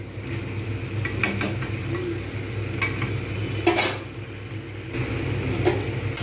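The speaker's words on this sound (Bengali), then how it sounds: "বেশ ভালোভাবে আমি কিন্তু এইটাকে আমি কষিয়ে নিচ্ছি" A spatula scrapes and clinks against a pan of boiled potato curry in short bursts, with a soft steady sizzle underneath; no talking.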